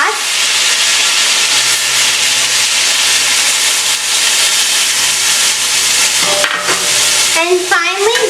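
Meatballs in soy and chili sauces are stirred in a pan over a high flame, giving a loud continuous sizzle with scraping spoon strokes and spitting bursts toward the end.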